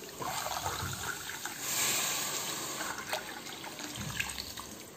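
Water is poured steadily onto plain rice in a pot for soya-chunk (meal maker) biryani, giving a continuous close splashing and trickling rush with small surges, heard alone for about five seconds.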